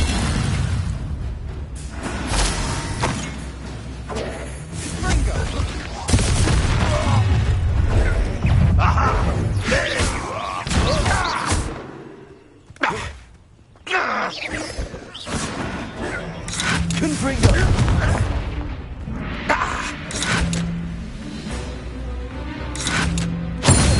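Confringo blast spells in the Hogwarts Legacy video game boom and burst repeatedly amid dense, loud combat noise, with whooshes and sharp pops layered throughout and a voice shouting a spell now and then.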